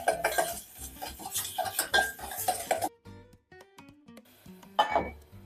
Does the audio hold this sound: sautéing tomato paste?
yes